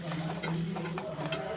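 Chopped tomatoes go into a hot pan for egg kothu chapati and are sautéed: a soft, steady patter of stirring and light sizzling, fairly faint and continuous, with no talking.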